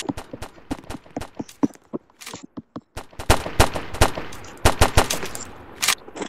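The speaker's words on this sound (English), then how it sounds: "I'm gonna get the pistol and shoot those aliens." Rapid, loud pistol-like bursts from aliens being shot in a build-to-survive video game, sharp cracks firing in quick irregular volleys throughout.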